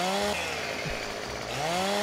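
A chainsaw runs in the video game Landwirtschaftssimulator 2015 (Farming Simulator), a steady buzzing engine drone that dips in pitch midway and then revs back up, heard alone.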